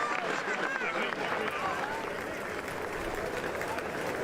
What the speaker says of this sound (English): All of this clapping.